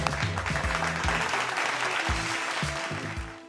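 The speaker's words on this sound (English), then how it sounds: "Can we give a big round of applause" An audience applauds at an influencer awards night as the host is introduced, a dense, steady wash of clapping that lasts the whole stretch, with a low musical tone underneath.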